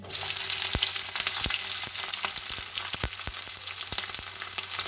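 Onions and chilies fry in a pan with a busy, crackling sizzle and scattered sharp pops, close and continuous, no voices.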